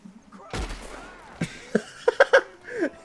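Gunfire in Red Dead Online: one sharp shot, then a cluster of several quick cracks in succession, mixed with players talking and laughing nearby.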